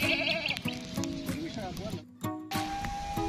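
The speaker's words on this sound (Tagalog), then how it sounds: "itong kambing na ito." Several wavering bleats from a goat, fairly close, overlapping with a person talking and some background farm noise.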